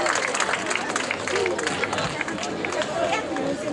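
Applause from an audience welcoming the presenters at a local "Got Talent" show evening in San Casciano in Val di Pesa, a dense steady wash of clapping and crowd murmur filling the hall throughout.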